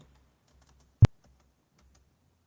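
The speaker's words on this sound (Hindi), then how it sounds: "अब इसकी क्वांटिटी टाइप करिए।" A single sharp key tap on a computer keyboard while entering data in Tally ERP 9 accounting software. It is one crisp click in near silence, with very faint murmur around it.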